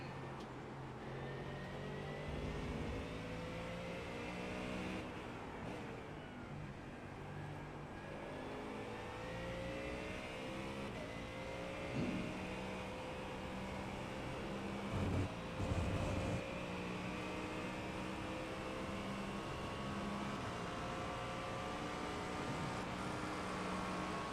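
Race cars lapping Spa in a racing video game, a McLaren among them, their engines droning and whining steadily with rising and falling revs as cars pass close by, layered engine notes continuing throughout.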